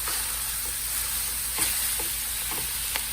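Steady frying sizzle and crackle of ground beef browning in a pot, with a few scraping stirs breaking it up through the hiss.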